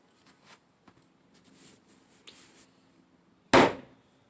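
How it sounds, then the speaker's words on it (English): A slab of red earthenware clay slapped down hard onto a work surface once, a single loud close thud after a stretch of faint handling noises. "I throw this down, turn it over, throw it down. It keeps flattening out the clay"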